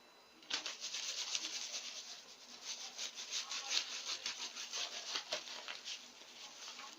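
Rubbing an object to build up static charge for a class 10 electricity demonstration, heard as a steady, close scratchy friction sound of repeated strokes lasting several seconds, with no talking.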